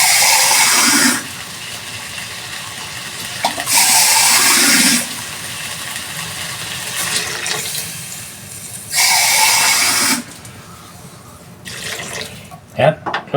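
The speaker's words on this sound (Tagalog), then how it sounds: "Lagyan ng kunting sabaw." Broth is poured into a pot of cooking vegetables in a home kitchen in short splashy bursts of liquid, three or four pours separated by quieter stretches, ending in a few small clatters.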